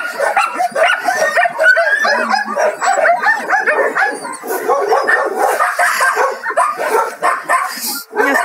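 Many dogs bark in the outdoor enclosures of an animal shelter. Their yelps, yips and whines overlap in a loud, constant chorus that runs without a break, some close and others farther off.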